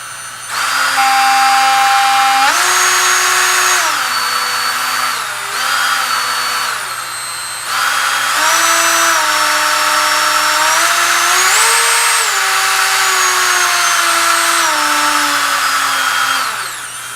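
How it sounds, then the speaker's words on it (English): A Black and Decker RTX-B handheld rotary tool whines steadily and loudly for the whole stretch at its low setting, its pitch wavering and dipping briefly a few times as it runs. "This is only supposed to be a 3-speed rotary tool"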